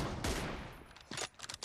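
M24 sniper rifle fire in a one-versus-one shooter video game: one sharp shot at the start, then a quick cluster of quieter cracks near the end, all fairly faint.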